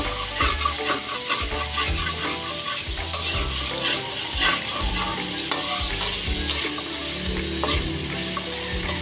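Pinakbet vegetables frying in a hot pan, stirred continuously with a loud steady sizzle and a scraping, clattering utensil, close up and with no voices.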